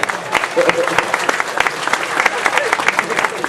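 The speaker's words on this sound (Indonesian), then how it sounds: "tepuk tangan semua teman-teman sekalian" An audience at a gathering claps steadily, dense rapid applause close and continuous for several seconds with a voice faintly beneath.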